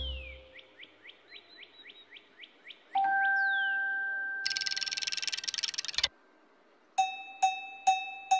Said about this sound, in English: The home time bell.